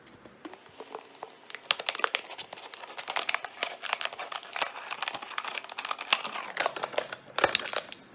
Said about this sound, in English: the first step of our craft is to cut the bottom of your water bottle off